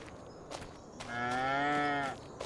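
A cow in a pasture in Farming Simulator 25 gives one long, full moo lasting about a second, close and clear, with a few soft thumps and footsteps around it.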